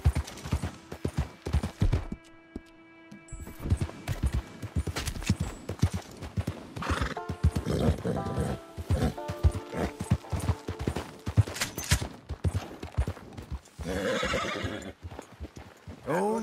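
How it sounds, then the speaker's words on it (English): Horses in Red Dead Redemption 2 during a race with a stranger: steady clip-clopping hooves throughout, a loud whinny near the middle and another toward the end, with mechanical clatter mixed in. "Pretty nice horse you got."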